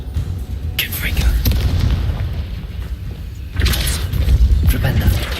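Confringo fire spell in Hogwarts Legacy erupting in loud, deep booming blasts, one early burst and another heavy eruption near the end, with rumbling impact noise between and a voice briefly talking in the game.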